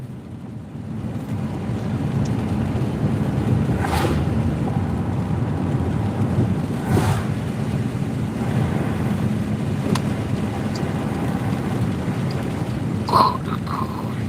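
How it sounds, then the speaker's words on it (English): A car drives through water standing on a road out in rural country, a steady loud broadband rush and hiss of tyres spraying through the flooding, with a few brief louder splashes along the way. "Hear that? That water stacking up on the road."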